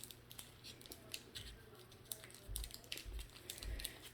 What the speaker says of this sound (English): I'm going to cut it. I'm going to grab my scissors on one side.